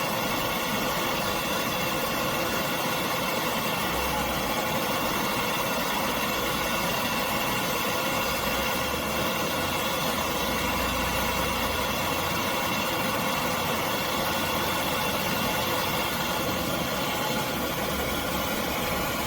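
A manlift's engine idles with a holed, leaking muffler, a continuous rough, buzzy drone with low throbbing pulses that holds steady and fairly loud for the whole stretch, with no voices.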